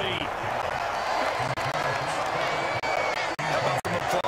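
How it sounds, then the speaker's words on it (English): A stadium crowd at a Monday Night Football game applauds and roars steadily throughout, a dense wash of sound with a commentator talking over it. "How about some applause for the defense there?"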